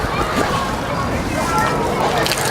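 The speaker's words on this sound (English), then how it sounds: "Turn that hose back on here." Water sprays from a garden hose to rinse product residue off a detailed car surface, making a loud, continuous sloshing splatter close by.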